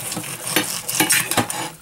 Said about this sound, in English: Plating it on a wedding dish.